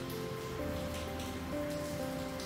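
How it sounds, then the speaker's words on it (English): Rain ambience in the Cafe Enchante game: a steady hiss of rain on surfaces under soft, sustained musical tones, with no voices. "we have some nice rainy ambience"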